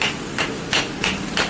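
Chisel carving into 105-year-old tamarind wood, the wood splitting as it is cut: repeated sharp tapping strikes at a steady rhythm, about four blows in a second and a half, close and fairly loud with no talk.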